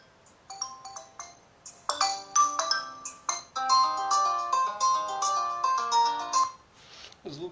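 A melodic ringtone on a Xiaomi Redmi 4X phone, with bright plucked tones in a quick rhythmic pattern that plays clearly and fairly loud on its own for several seconds.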